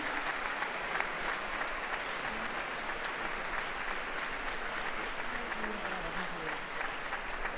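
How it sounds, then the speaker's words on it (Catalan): An audience applauds steadily at an orchestra competition awards ceremony, a dense, continuous wash of clapping from a large hall crowd lasting several seconds, faint voices barely under it. "Un aplaudiment per a ell"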